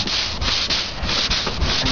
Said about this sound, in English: So first we have to sand it with some sandpaper so the Bondo and the filler will stick to it.